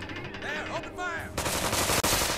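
Video game gunfire in South Park: The Stick of Truth, a dense burst of rapid shots after a second or so of a voice with a tonal whine, loud and continuous to the end.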